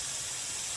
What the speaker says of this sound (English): The steam is coming out.